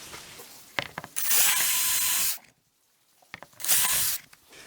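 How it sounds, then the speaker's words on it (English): Two loud bursts of a power drill with a 1/4-inch bit enlarging holes for Subaru puddle lights, close by, separated by a brief pause, with clicks and handling noise around them. "take a 1/4-inch drill bit and just go ahead and enlarge those holes"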